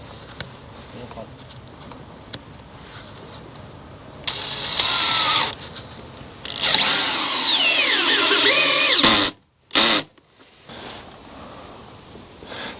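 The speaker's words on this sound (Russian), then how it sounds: "И закручиваем саморезы." Screwdriver driving self-tapping screws into a wooden batten during facade lathing, with two loud whirring bursts of rising pitch, the second longer, separated by quiet handling noise and a short clunk near the end.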